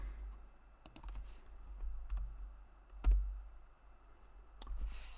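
A few scattered keystrokes on a computer keyboard, faint and sparse clicks spread over a few seconds against a low background hum, with no voice.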